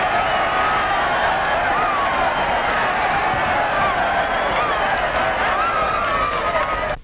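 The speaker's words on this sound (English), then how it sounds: "get a cheer like this" A large crowd at a ball game roars in a continuous, loud, dense wash of cheering that holds steady throughout, with a muffled, band-limited quality like an old film soundtrack.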